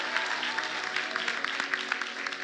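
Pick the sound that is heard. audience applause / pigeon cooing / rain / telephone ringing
audience applause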